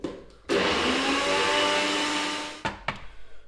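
A blender whirs loudly for about two seconds as it blitzes an olive oil baste, then cuts off, followed by a few short knocks and rattles nearby.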